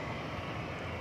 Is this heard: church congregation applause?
no